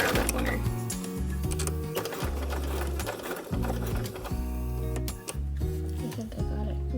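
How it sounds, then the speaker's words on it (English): A Bernina sewing machine stitches a fabric bookmark, its needle running in a fast, loud mechanical chatter with brief pauses and restarts, close and continuous, with no voices. "You'll just want to keep that thread out of the way while we sew"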